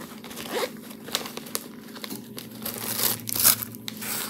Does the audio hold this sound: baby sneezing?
no